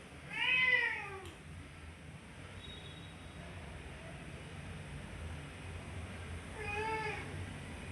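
A pet cat meows twice, a clear drawn-out call at the start and another near the end, over a quiet indoor hum with no talking.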